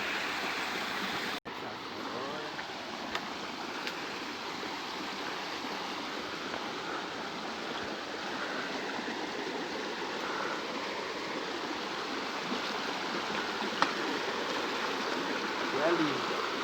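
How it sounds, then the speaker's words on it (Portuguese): A stream flowing through woodland, with very cold water, gives a steady broadband rush and babble that carries evenly and fairly close throughout, with a brief dropout early on. "A gente vai atravessar aqui o riacho."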